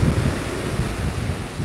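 Large waves driven by Typhoon Opong pound the shore at a boulevard in Bicol near high tide, a continuous heavy roar of surf mixed with strong wind buffeting the microphone, with no voices.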